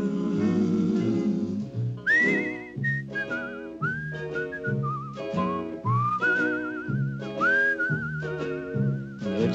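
A person whistles a tune in a 1962 film trailer. Clear, close melodic phrases with vibrato on the held notes play over soft backing music.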